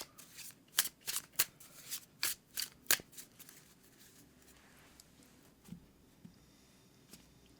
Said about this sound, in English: let's pull one card from the Familiar Field Oracle.